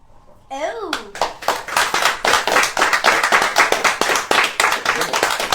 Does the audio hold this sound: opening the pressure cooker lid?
no